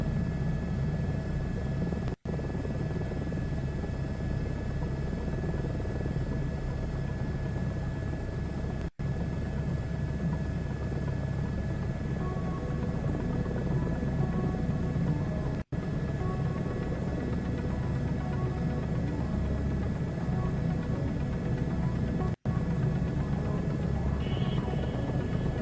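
A helicopter in Microsoft Flight Simulator 2024 drones with a steady, even rotor and turbine hum that holds without a break at a quiet, level volume throughout.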